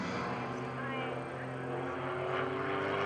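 A propeller aerobatic plane drones overhead at an airshow, a steady buzzing engine note with slight pitch shifts as it maneuvers, moderately distant, while a commentator talks over it.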